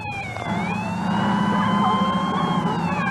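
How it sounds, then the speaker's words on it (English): A wailing emergency siren rises and falls continuously over low traffic rumble, fairly loud and steady throughout. "Sirens are a common occurrence."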